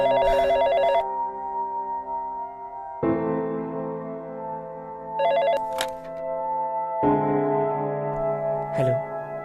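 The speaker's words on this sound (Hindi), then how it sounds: "आकाश, देखो जरा किसका फोन है।" An indoor telephone rings in repeated electronic trilling bursts, about four rings separated by brief pauses, clear and fairly close with small clicks between rings.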